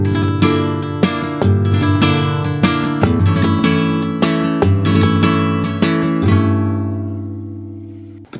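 Flamenco guitar strumming a rumba-style rhythm adapted to tangos, with loud, rhythmic rasgueado chords and sharp percussive accents that settle into a ringing final chord; no voices.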